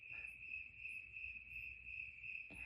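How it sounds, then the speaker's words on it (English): Crickets trill continuously at night in a steady, high-pitched chorus, fairly faint and even throughout, with no talking. "I heard these crickets and frogs"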